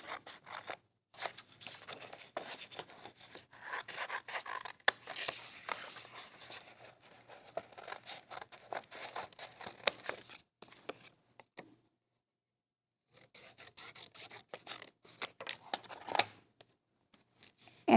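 Scissors snipping through washi tape, a quiet series of close, crisp cuts and small crunchy rustles in irregular bursts, with a short silent pause before the cutting resumes.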